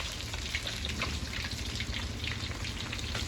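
Salted fish frying in a pan crackles and sizzles in a dense, steady patter, close and continuous throughout with no voices.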